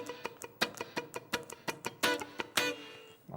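Percussive rhythm guitar strumming, a sequence of sharp muted strums and accented chord hits in a syncopated pattern, played alone at close range.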